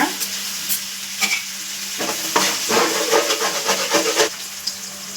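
Green chillies and coriander sautéing in a pan, a loud, close sizzle with repeated scraping stirs and clinks of the spatula against the metal.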